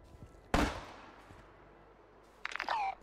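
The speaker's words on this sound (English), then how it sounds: "So you start shooting me" A single sharp gunshot cracks out loud and close in Warzone, decaying quickly, followed after a pause by brief tonal game sounds.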